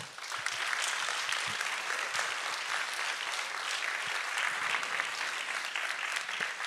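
A large conference audience applauds loudly and continuously, dense clapping filling the whole stretch without pause.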